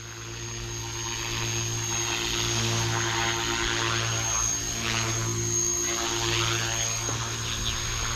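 A 300X RC helicopter flying in normal mode at 65% throttle gives a loud, steady whine of motor and rotor. A constant tone runs the whole time, with slow rises and falls in the blade noise as it moves.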